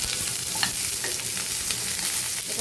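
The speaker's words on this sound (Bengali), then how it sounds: "পেঁয়াজ দিয়ে হালকা একটু নাড়াচাড়া করে আমি মিষ্টি কুমড়াটা দিয়ে দিব।" Onions frying in a pan, sizzling steadily at close range while being stirred, with scattered scrapes and taps of the utensil against the pan throughout; no talking.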